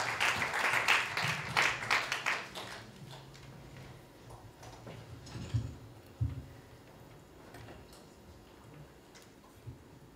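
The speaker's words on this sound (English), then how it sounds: "Let's give the Lord a clap of praise." A church congregation claps in praise at an evening service, a dense burst of applause for the first couple of seconds that quickly fades, leaving scattered faint claps and low room noise.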